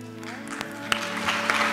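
Audience applause at an IPP graduation ceremony at King Fahd, a short patch of clapping rising gradually beneath a sustained tonal hum, with a few sharper individual claps standing out.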